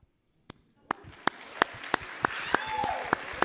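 An audience at a youth and family advocate summit begins clapping. A few sharp isolated claps come first, then the applause builds into a steady round with louder individual claps standing out, and there is faint background noise.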